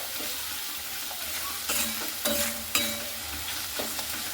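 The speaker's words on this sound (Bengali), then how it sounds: "এরপরে খুব সুন্দর করে কিন্তু মশলাটাকে কষে নিতে হবে" Spices with turmeric and Kashmiri chili powder fry in oil for a Bengali chicken dish, a soft continuous sizzle broken by several scraping stirs of a spatula, close and moderately loud, no talking.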